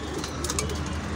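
Pigeons in a breeding room, including a newly paired racing cock and hen, coo softly and continuously against a steady room hum, with no one speaking.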